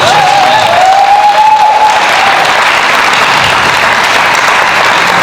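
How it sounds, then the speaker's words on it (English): A convention panel audience for the Power Rangers Megaforce cast breaks into loud, sustained applause, with a dense wash of clapping and some crowd noise that holds steady throughout without fading. "Let's give a big round of applause for the Megaforce guys."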